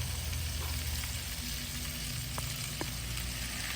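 Stir fry ingredients with sirloin sizzling in a pan over a campfire, a loud, steady, crackling hiss, close up, with a couple of faint clicks and no talk.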